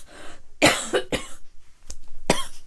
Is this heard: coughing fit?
yes